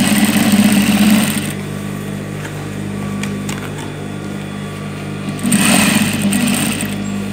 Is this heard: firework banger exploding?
no